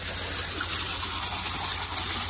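Pool water gushing steadily from an underground water pump, a continuous close, loud rush with no pauses and no voices.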